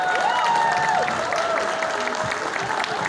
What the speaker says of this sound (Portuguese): uma salva de palmas pra esse menino